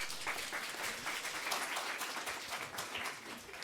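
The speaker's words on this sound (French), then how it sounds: "On peut l'applaudir encore." An audience at a conference on freelancing applauds a speaker, a fairly faint, sustained patter of many hands clapping with no voices on top.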